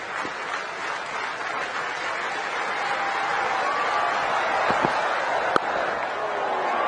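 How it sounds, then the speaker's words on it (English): Stadium crowd at a women's T20 cricket semifinal between Australia and New Zealand, a steady broad roar of noise holding at moderate loudness throughout, with commentary voices heard over it. "The crowd alive to the prospect of a wicket maiden."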